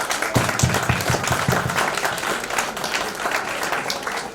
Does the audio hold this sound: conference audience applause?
yes